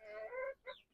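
Indigenous farm hens on a poultry farm give a single short, close cluck followed by a brief higher squawk, alone and fairly faint.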